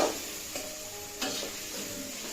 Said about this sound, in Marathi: इथे कांदा मस्तपैकी फ्राय झालेला आहे.